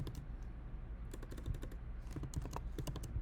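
A command being typed on a computer keyboard in a terminal, with clusters of quick, close key clicks coming in bursts with brief pauses, alone and with no talking.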